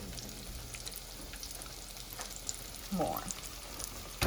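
Zucchini slices fry in a hot pan with a steady close sizzle and crackle and a brief scrape of stirring partway through, while a voice speaks briefly.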